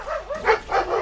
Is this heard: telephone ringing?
no